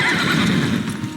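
A horse in the video game Elder Scrolls Online gives one short, loud whinny with hoof clip-clop underneath. The sound is close and fills the whole brief moment.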